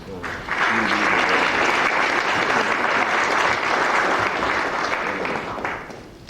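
An audience claps steadily to welcome a panel moderator at a space conference session. The dense applause swells in quickly, holds for several seconds and then tapers off.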